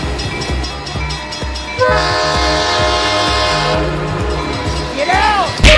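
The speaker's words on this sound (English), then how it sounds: "Oh my God, train!" An animated train rolls past with rhythmic wheel clatter and a long, loud horn blast, while voices are heard near the end.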